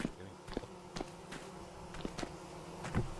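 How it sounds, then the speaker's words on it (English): Bees buzz faintly indoors in Vintage Story multiplayer, a low steady drone under soft, evenly spaced footstep-like taps. "I hear bees in here"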